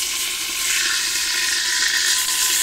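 Meat searing in an Afghan kazan pressure cooker over a wood fire, a steady loud sizzle and fry hiss running close and continuous without a break.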